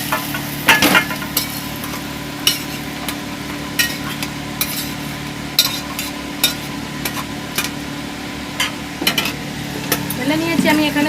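Lightly fried vegetables for a Bengali malai pyaz sabji are poured into a pan, with a steady sizzle of frying broken by repeated clinks and scrapes of utensil against metal, close and fairly loud.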